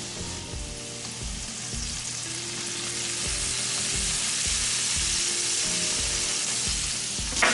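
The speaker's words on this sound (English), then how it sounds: "pan sear it in butter and seasonings" Snook fillets pan-sear in butter with seasonings, a loud, steady sizzle and crackle of frying fat broken by rhythmic low scraping knocks as the pan is stirred, with no talking.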